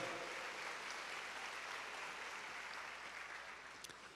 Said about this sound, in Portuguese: Aplaudam a palavra de Deus